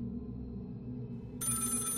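Telephone ringing in the horror game Find Yourself, a bright electronic ring that starts partway through over a steady low background drone.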